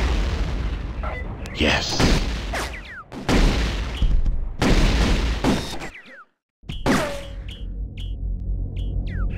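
Plasma rifle shots in the T2 video game, several sharp booming blasts with zapping tails in irregular bursts, loud and close, with a brief silent gap and a short spoken word.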